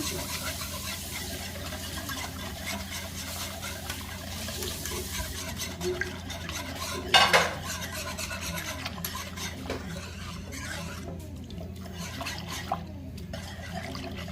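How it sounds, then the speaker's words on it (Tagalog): A spoon stirs corn pandan ice candy mixture in a pot, a steady close rasping scrape with faint liquid sloshing and a brief louder clatter partway through. "So, just keep on mixing."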